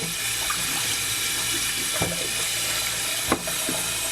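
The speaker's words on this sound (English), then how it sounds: "So all you want to do is rinse these off very well in cold water." Steady running cold tap water splashing into a sink as food is rinsed, a continuous wash of sound with a couple of brief clinks.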